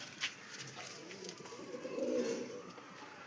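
Kajki pigeon at a pigeon seller's, cooing softly in a low rolling murmur that swells toward the end, faint and close, with no voices over it.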